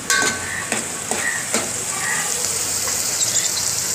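Green peas fry in hot oil for veg pulao, giving a steady close-up sizzle, with a few sharp crackles and spoon scrapes near the start before the frying settles into an even hiss.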